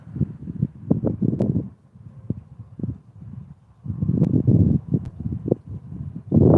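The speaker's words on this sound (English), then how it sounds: "Top of the hill here, it's definitely windy." Gusty wind buffets the microphone in uneven bursts, rising and falling with brief lulls, loud and rumbling like an exposed outdoor spot.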